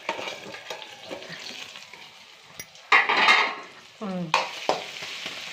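Tomato rice frying in a pan, with a soft sizzle under scattered utensil clinks and scraping stirs, then a louder burst of sizzling and clattering as the pan is worked.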